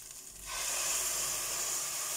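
Tomato paste hits fried onion masala for a Punjabi soybean and potato sabji, and a loud, steady sizzling hiss rises after a brief quiet moment, then holds close to the pan.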